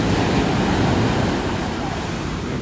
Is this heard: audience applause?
no